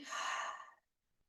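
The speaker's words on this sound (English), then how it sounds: "Breathing in, 2 inhales, 1 H-A exhale." A single forceful breath pushed out through an open mouth with a breathy ha, part of a yoga breathing exercise for Parkinson's disease; one short airy exhale close to the microphone, then silence.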